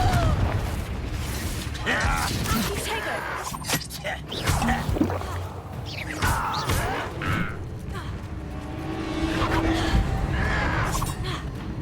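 A Confringo fire spell explodes during a hard-mode battle in the Hogwarts Legacy video game, its booming blasts and crackling impacts mixed into busy combat effects and music, with character voices heard.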